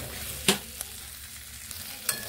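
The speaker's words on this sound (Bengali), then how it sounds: "আর 40 থেকে 50 সেকেন্ড আমি এইভাবে কষিয়ে নেব সব সবজিগুলোকে।" Mixed vegetables for a beans dish are stir-fried in a pan, giving a quiet, steady sizzle broken by a few sharp spatula scrapes and clicks.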